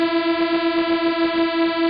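Detuned sawtooth synth oscillators at the same octave make a sustained, buzzy Reese-like bass tone in drum and bass, with a slow, regular phasing wobble pulsing through the held note.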